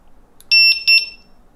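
An Inmotion Mten5 electric unicycle's built-in speaker gives short, high, electronic beeps as it powers on. Two clear tone bursts sound close and alone.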